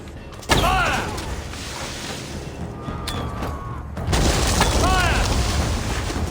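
Weapons fire on command in the video game Assassin's Creed Valhalla: heavy booming blasts and a rumbling barrage, with shouted voices heard over the gunfire.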